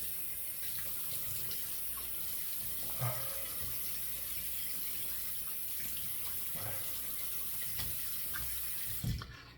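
Steady stream of water running from a bathroom tap while rinsing off during shaving, faint and continuous, with a few soft splashes and knocks along the way.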